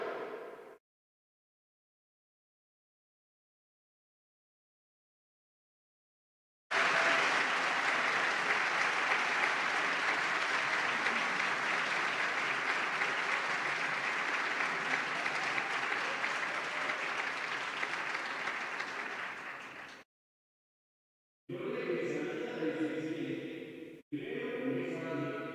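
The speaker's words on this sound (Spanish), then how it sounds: "¡Un fuerte aplauso!" Graduates and guests at a university graduation ceremony give a long, loud burst of applause that fades out after about thirteen seconds, after silence at the start; a voice and music follow briefly at the end.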